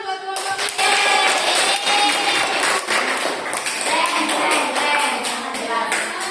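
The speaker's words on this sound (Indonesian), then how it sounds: "Tepuk tangan buat kelompok ini." Students in a classroom applaud a presenting group, a sustained crowd of hand claps with sharp individual taps standing out, loud and steady for several seconds.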